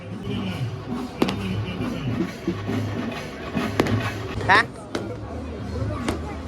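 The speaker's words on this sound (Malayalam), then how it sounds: "പ്രതീക്ഷ ഇറങ്ങണേൻ്റെ വെടിക്കെട്ടാട്ടോ ഇത്" Festival fireworks at a Kerala village celebration burst in sharp cracking bangs at irregular intervals, some distant and some closer, over a steady murmur of crowd noise and drumming.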